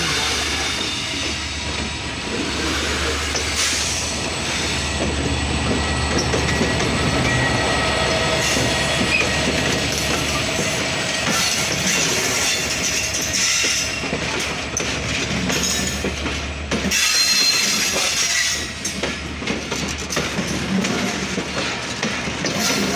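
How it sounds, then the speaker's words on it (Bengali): Banglabandha Express intercity train, hauled by locomotive 6630 on the Panchagarh to Rajshahi run, at Parbatipur Junction platform, with a steady loud rumble of rolling wagons and wheel noise and a low engine drone throughout, continuous and close. "পঞ্চগড় থেকে ছেড়ে আসা রাজশাহীগামী ৬৬-৩০ লোকোমোটিভ নিয়ে বাংলা বন্ধু এক্সপ্রেস পার্বতীপুর"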